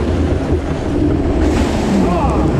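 A log flume ride on Brighton Palace Pier rushes through water in a loud, continuous wash of splashing and wind, with voices faintly audible beneath.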